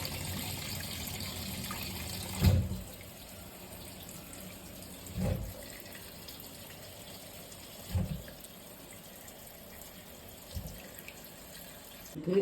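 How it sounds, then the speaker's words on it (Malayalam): Cauliflower being washed in a bowl of water, with a few short splashes and sloshes at intervals over a steady, quiet, hissing background. "വെള്ളത്തിൽ ഒരു 2-3 പ്രാവശ്യം കഴുകുക"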